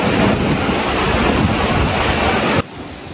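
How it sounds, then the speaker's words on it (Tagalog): Strong wind roars into the microphone during a rescue in a storm, a loud, steady rush of buffeting noise that suddenly drops off near the end. "Sobrang lakas ng hangin ngayon dito sa kagitan."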